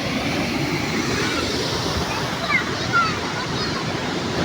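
Water flows through a single channel at the mostly dry Kalingarayan dam on the Bhavani, a steady broadband rush heard close and continuous, with no voices and no break.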